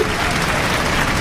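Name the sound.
congregation applause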